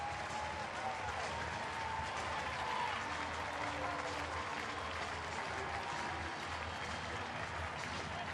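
Crowd at a Pittsburgh baseball stadium on a Saturday afternoon applauding and cheering on their feet, a distant, continuous roar of clapping and voices.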